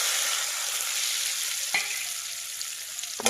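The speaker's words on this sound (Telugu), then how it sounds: "మనం పన్నీర్ ముక్కలు అయితే ఫస్ట్ వేపేసుకున్నాము." Paneer pieces frying in hot oil in a pan make a steady, close sizzle that runs throughout, with a couple of brief clinks from stirring near the end and no voices.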